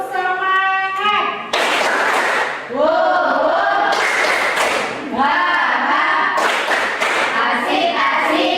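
A group of children performs a rhythmic spirit clap during a school event, with bursts of patterned clapping and thumps alternating with loud chanted voices in unison.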